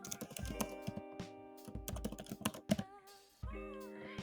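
A computer keyboard gets typed on in quick clustered bursts of clicks, heard close up. The short pauses between bursts sound like a command being entered.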